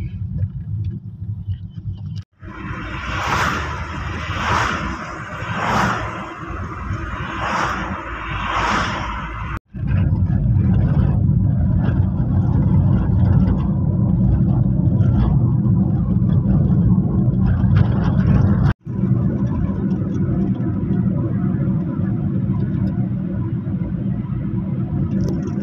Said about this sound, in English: Traffic on a Sunday.